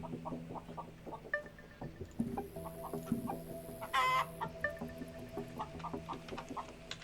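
Chickens cluck repeatedly in the video game Contraband Police, a busy run of short, fairly close calls layered over steady game ambience, with one louder burst partway through.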